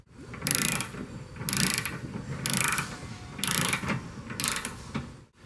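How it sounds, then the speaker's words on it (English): A ratchet wrench tightens a bolt on a bolt-on trailer hitch receiver of a 2014 Range Rover Sport, giving five short bursts of rapid metallic clicking at an even pace, close and alone. "We'll put a wrench on the back and we'll get this torqued up to 180 foot-pounds."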